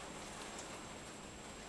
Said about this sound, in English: that's the rain hitting the window